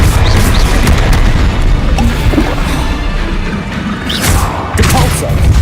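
Hogwarts Legacy combat with the Confringo explosion spell: loud, dense booming crashes fill the whole stretch, with heavier blasts near the start and again toward the end.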